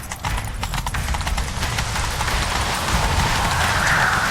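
Horse hooves gallop in a rapid, steady clip-clop rhythm in The Witcher 3: Wild Hunt, close and fairly loud, with a whooshing rush building toward the end.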